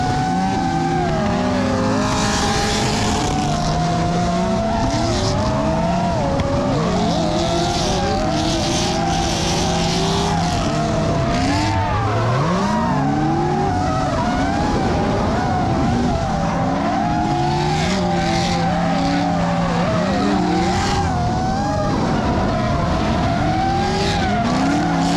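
Drift car on a warm-up run at a first drift competition, engine roaring and tires squealing loudly and almost without a break, with surges and skids throughout and no talk.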